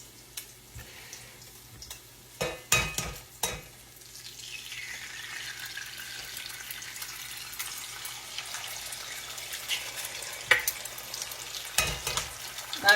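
Salmon patties fry in a skillet over medium-high heat, a sustained sizzle broken by several loud clatters and scrapes of a utensil against the pan, with no voices.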